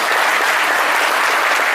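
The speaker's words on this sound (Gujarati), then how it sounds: "તાળી તો વગાડો જરા." An audience at a religious discourse claps in a dense, sustained burst of applause, loud and close throughout.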